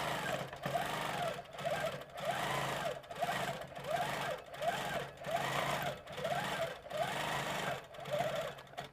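Sewing machine stitching quilt sashing runs steadily at close range in a rapid, even mechanical chatter, with short pauses and restarts throughout.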